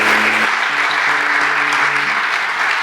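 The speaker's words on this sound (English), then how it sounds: "can you please stop applauding?" A coffeehouse concert audience applauds loudly and continuously, a dense steady wash of clapping from a nearby crowd with a faint low hum underneath.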